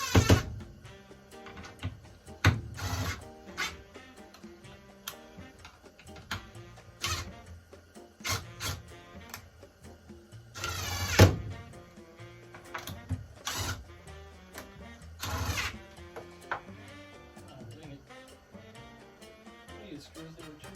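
Screws driven into a French cleat parallel clamp storage rack in a workshop, with repeated short bursts of a drill or driver starting and stopping at irregular intervals, moderately close, with occasional clatter between bursts.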